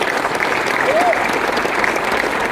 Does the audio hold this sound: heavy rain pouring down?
no